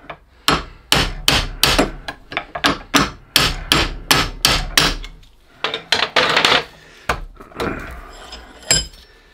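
Sharp metallic knocks and taps ring out in an irregular series as a spanner works on a steam boiler clack valve, close and fairly loud with brief clinks and scrapes between the blows.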